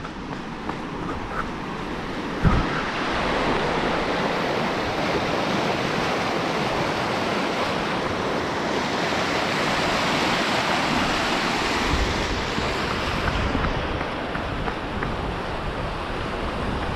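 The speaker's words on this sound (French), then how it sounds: "Les plus gros là, le ruisseau." A mountain stream rushing steadily nearby, a dense unbroken roar of water with a brief thump near the start and no talking.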